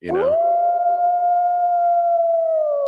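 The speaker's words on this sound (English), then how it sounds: "Just howling at the moon." A soundboard howl effect rises quickly into a long, loud, steady sustained wolf-like note that slowly fades, heard alone without talk.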